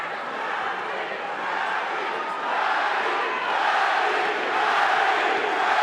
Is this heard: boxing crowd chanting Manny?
yes